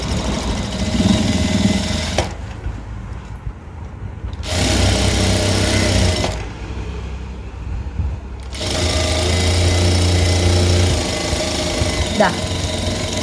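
A sewing machine runs loud and close while stitching an elastic-waist skirt, in long steady humming runs broken by short pauses for handling the fabric.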